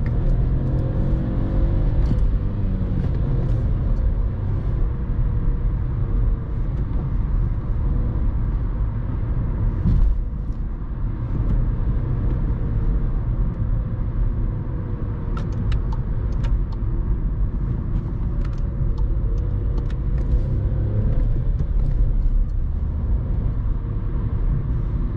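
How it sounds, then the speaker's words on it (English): A new 60-horsepower turbo car at full throttle around 3000 RPM, its engine a steady, loud, low rumble that drones continuously without a clear rise in pitch. "It will be much more fun when turbo kicks in at 3000 RPM until 5 maybe."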